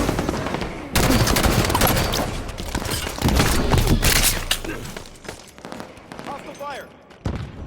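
Loud, close automatic weapon fire from the shooter Halo 5, sustained bursts packed with impacts and crackling, easing off toward the end before one more sharp burst.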